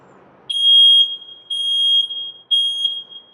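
A smoke alarm beeps three times in a steady rhythm, each piercing tone lasting about half a second, loud and close.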